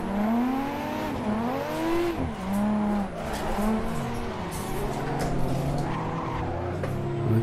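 Several cars race through a drifting game in Forza Horizon Playground multiplayer, engines revving up and down in sweeping pitch while tires squeal and skid almost without a break, loud and close throughout.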